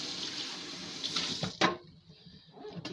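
Water running from a tap into a can of pizza sauce as it is rinsed out, a short hissing splash with a sloshing hit before the flow cuts off, close with no talk.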